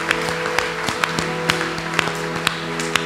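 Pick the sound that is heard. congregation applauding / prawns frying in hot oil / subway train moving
congregation applauding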